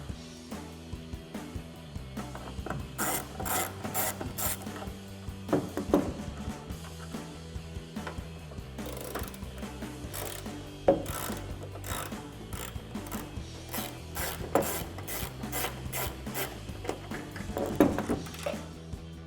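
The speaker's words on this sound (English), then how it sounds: "grab a T25 Torx socket and a ratchet. Let's get these out." A ratchet driving a T25 Torx socket as it removes taillight bolts on a 2009-2018 RAM 1500, heard as repeated bursts of quick mechanical clicking at close range, with short pauses between runs and no talking.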